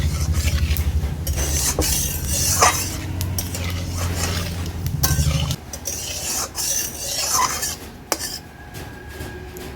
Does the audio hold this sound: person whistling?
no